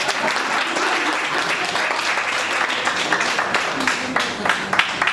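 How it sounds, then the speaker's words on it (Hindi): An audience applauds to welcome a woman singer before her song at a Hindi music performance, a dense, steady clapping that fills the room, with a few sharper individual claps near the end. "तो पहले तालियों से स्वागत करें।"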